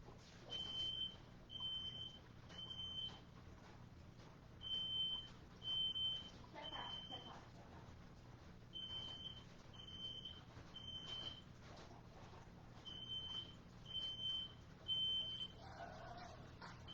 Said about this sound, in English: And my smoke alarm went off, guys.